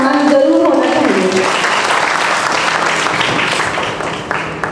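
Audience applause for the performers of a Hindi stage play, a dense sustained clapping that rises quickly and stays steady throughout, with a voice talking briefly over it at the start.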